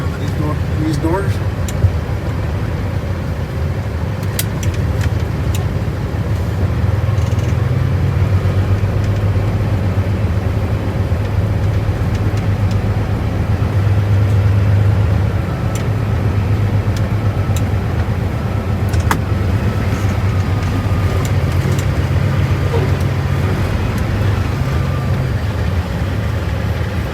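A long-hood semi truck rumbles at low engine speed while backing into a tight loading dock, its deep drone rising and easing steadily, with occasional clanks nearby.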